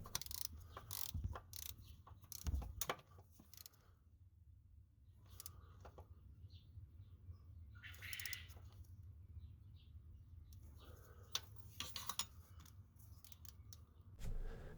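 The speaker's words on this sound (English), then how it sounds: "Followed by tightening it with the ratchet and torque it to spec if you prefer." Ratchet clicks in short bursts while a starter bolt is tightened on a 2001-2005 Honda Civic, sharp metallic ticks repeating close by over a low background hum, with pauses between strokes.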